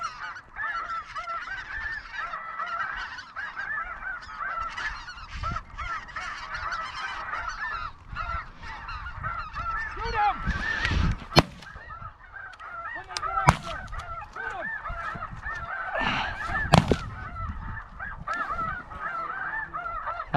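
Geese in a flock honk continuously at moderate distance in open Alberta country, with a few sharp, loud pops cutting through the calls.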